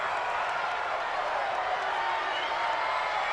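Home crowd in the Madden NFL 20 football video game, cheering steadily after a penalty call, a dense, continuous roar of many voices with faint clapping throughout.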